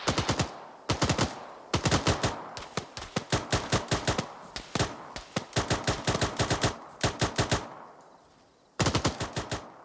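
Rapid automatic gunfire in a military video game rattles out in loud, close bursts of many shots, separated by short pauses.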